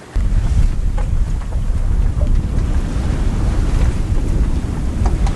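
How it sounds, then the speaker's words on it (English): A sailboat motoring into the wind off Nuku Hiva in French Polynesia: a loud, steady roar of wind buffeting the microphone over a deep rumble, with no voices, unbroken throughout. "Our boat goes so slow when we're motoring into the wind."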